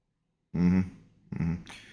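A dog giving two short vocal bursts, a whine-like yelp followed by a second briefer one, close and fairly loud after a moment of silence.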